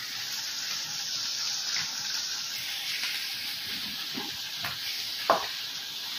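Onions sauté in a pot for pinakbet, a moderate, even sizzle with occasional stirring clatters and a sharp utensil tap near the end.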